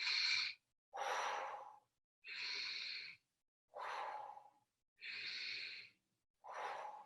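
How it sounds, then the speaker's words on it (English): Slow, deep breaths during a combined qigong and yoga practice, six long airy inhales and exhales in a steady rhythm, close and quiet with silent gaps between them. "Inhaling."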